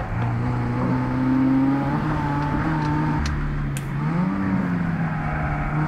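A race car is driven around a circuit with a chicane. The engine drones loudly and continuously, its pitch rising and dipping with throttle and braking.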